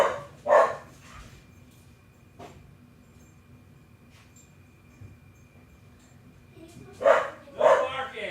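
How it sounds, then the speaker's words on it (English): A dog barks indoors with a few loud, sharp barks at the start, then a long lull over low room hum. A quick double burst of barking follows near the end. "Stop barking!"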